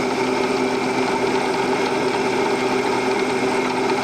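A steady, high-pitched mechanical whine of a very small drill bit running continuously, close by, starting a center hole in metal, with a constant droning tone and no talking.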